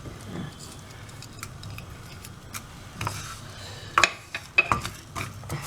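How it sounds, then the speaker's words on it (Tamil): Cumin seeds dry-roasting in a pan: faint rustling and light scraping of a spoon, then a few sharper clinks of metal against the pan toward the end, with quiet background noise. "சீரகம் போட்டு லைட்டாக வறுத்துக்கிடுவோம்"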